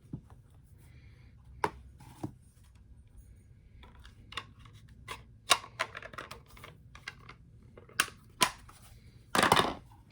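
Scissors snip through paper to cut out a tree shape for a handmade card. Sparse, sharp close clicks and snips come in an irregular rhythm, ending in a brief louder rustling burst, with no voices.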